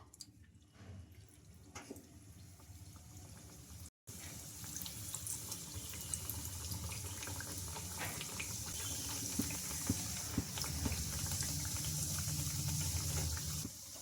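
Bondas deep-frying and puffing up in hot oil, a continuous close bubbling sizzle that grows denser and louder after a brief break, with no talking over it.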